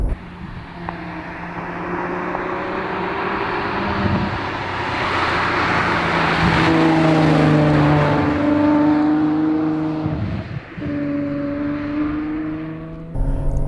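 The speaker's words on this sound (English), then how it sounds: "You just cannot beat a Ferrari V12." Ferrari 812 Superfast V12 engine under way, a loud, smooth howl that climbs through the revs, drops briefly at a gearchange and surges again, heard from inside the cabin without talk.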